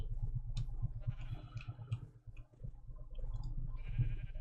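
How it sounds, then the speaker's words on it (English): Minecraft sheep bleat several times at irregular intervals, moderately loud, over low clicks and game background noise. "Sheep. Sheep, sheep, sheep. Where can I put you guys?"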